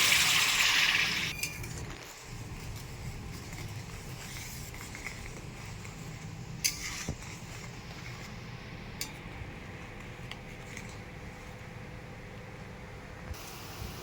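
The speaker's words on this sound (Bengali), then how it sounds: "এবার পরিমাণ মতো গরম জল দিয়ে দেবো" Hot water poured into a simmering pangasius fish curry in a pot, a brief gush of liquid at the start followed by a low steady bubbling hiss, close and fairly quiet.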